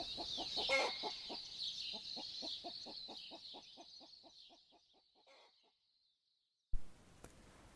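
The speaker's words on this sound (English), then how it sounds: "Cockerel Martin and his lovely hens were preparing for an exciting adventure" Rapid, evenly spaced clucks from chickens with a rooster's call near the start, slowly fading out, then a brief pause and a sudden short burst.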